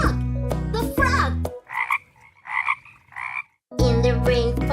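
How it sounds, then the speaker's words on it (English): A rainforest frog croaks three times in a row, short rough bursts spaced about half a second apart, set between loud, bright musical passages that cut in before and after. "Wow! The frog! The frog!"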